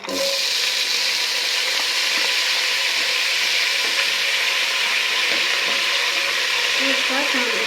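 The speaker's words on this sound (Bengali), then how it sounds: "এখন আমি পেঁয়াজ দিয়ে দিচ্ছি।" Onions sizzle loudly in hot oil in a pan while a chicken curry is being made, a steady bright frying hiss that runs throughout with faint scraping of a spoon now and then.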